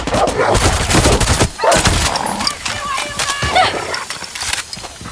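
Rapid gunfire bursts from the video game Far Cry 6, dense and loud throughout, with voices talking over the shooting.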